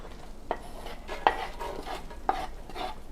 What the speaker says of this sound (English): We're going to add 4 tablespoons of butter.